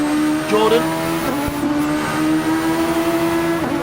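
Open-wheel racing cars in Gran Turismo Sport's Super Formula championship at Spa, including a Castrol Honda and a Toyota-engined car, droning steadily with sustained engine whine and a brief tire squeal, running under continuous race commentary.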